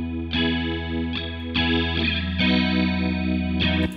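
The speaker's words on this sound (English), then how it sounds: "Chorus makes everything sound very slightly out of tune." Electric guitar through a Boss chorus emulation plugin, a few strummed chords ringing with a shimmering, slightly detuned wavering, close and full with no talking.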